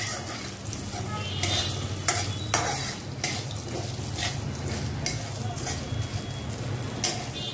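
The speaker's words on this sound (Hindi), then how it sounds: "तो थोड़ा मूंगफली को भून लेंगे" Peanuts roasting in a pan with cumin for chivda namkeen, stirred steadily with a utensil that scrapes the metal, a continuous close sizzle broken by repeated louder scraping strokes.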